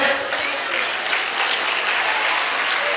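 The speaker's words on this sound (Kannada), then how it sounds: "ಎಲ್ಲರೂ ಸೇರ್ಬಿಟ್ಟು ದೊಡ್ಡದಾದಂಥ ಚಪ್ಪಾಳೆ ಹೊಡ್ಬಿಡಿ" An audience claps steadily after a retro Kannada dance performance, a dense, continuous round of applause that stays loud and even throughout.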